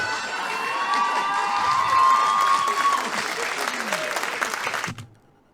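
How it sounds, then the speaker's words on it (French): An audience applauds at a live comedy show, with steady, loud clapping and some cheering that lasts about five seconds and then cuts off sharply. "Y en a-tu d'autres qui applaudissent là-dessus?"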